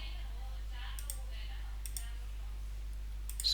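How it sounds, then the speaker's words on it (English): A computer mouse gives a few sharp, quiet clicks in short groups over a low steady hum, close by with no talking. "go ahead and click on next"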